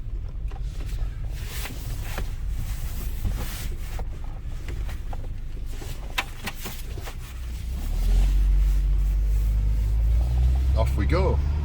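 A Toyota Tarago Previa van with about 280,000 km on it drives on a test run. Its engine and road rumble stay low and steady, then swell louder near the end as it pulls away. Someone speaks over the noise.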